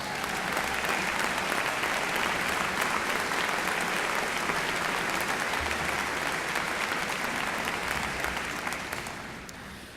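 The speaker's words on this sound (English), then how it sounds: "Please stand and give them a nice round of applause." Round of applause in a hall at a sports hall of fame induction ceremony, a full, continuous roar of clapping from a large crowd that holds steady and then fades near the end.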